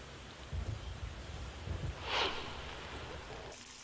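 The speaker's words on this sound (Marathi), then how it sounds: "रायगड जिल्ह्यात सर्वदूर वादळी वाऱ्यासह पाऊस सुरू आहे" Steady monsoon rain with strong wind hissing throughout in Raigad district, Maharashtra, with low gusty rumbles near the start and a brief swell of noise midway; no voices.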